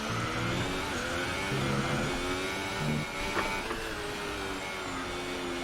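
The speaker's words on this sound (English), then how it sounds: "I give the engine a lot of revs there" An F1 race car engine in the F1 2018 video game revs hard during a Spain career session, a loud, continuous high-pitched engine whine with steady harmonic tone and slight pitch shifts throughout.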